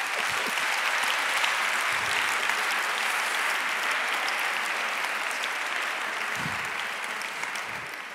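An audience applauds steadily throughout, a dense wash of clapping from a large crowd in a hall, loud and continuous, tapering slightly at the end.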